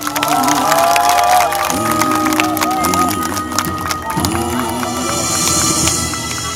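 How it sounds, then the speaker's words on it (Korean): An audience at a fire show claps in encouragement, a loud continuous wash of clapping and crowd noise with a voice and bits of music running over it. "다시 한번 격려의 박수 한번 주세요"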